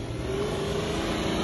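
Land Cruiser 80 4.5-litre, Lada Niva or similar SUV engine held at full throttle off-road, a steady loud continuous roar with strong low rumble and no speech.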